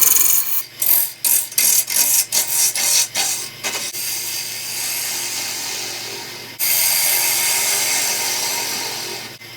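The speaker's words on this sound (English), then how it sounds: "then we can drill a hole for our mortise." Woodturning on a lathe at about 1400 RPM, working a wild diseased chokecherry bowl base: a string of short scraping cuts, then a steady whirring drill boring the mortise hole, close and loud.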